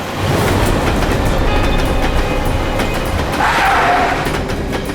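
A train passing nearby, its loud continuous rumble and rail noise filling the whole stretch, with faint rhythmic clatter and a brief higher squeal of wheels toward the end.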